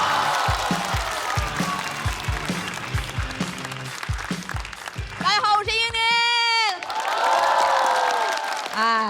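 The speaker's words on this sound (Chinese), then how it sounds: "掌声有请" A studio audience at a televised stand-up comedy competition bursts into loud applause and cheering for a performer coming on stage, with a host's voice and music around it.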